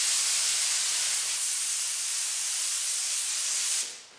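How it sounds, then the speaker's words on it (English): A paint spray gun hisses steadily as it lightly dusts silver paint over a guitar body, one continuous loud spray that cuts off near the end. "I'm going to turn my air pressure up just a little bit, and I'm going to lightly dust silver over everything"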